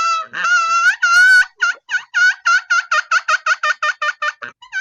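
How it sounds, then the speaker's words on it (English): Goose honks from a played recording, loud and close, starting with a few drawn-out calls and then a fast, steady run of short repeated honks. "Oh my God, there's a goose in here."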